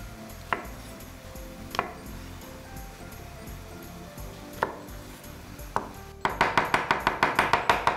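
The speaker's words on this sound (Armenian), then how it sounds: "Սունկը կտրատեմ մանր։" A knife finely chopping agaricus mushrooms on a board makes a few sharp, isolated cuts, then a fast, even run of close knocks, over soft background music.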